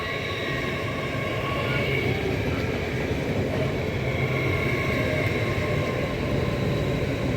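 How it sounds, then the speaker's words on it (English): Class 802 unit 802-208 pulls into platform 2 at Northallerton station with a steady, loud rumble of engines and wheels that holds throughout, with no talking. "And that is 802-208 arriving into platform 2."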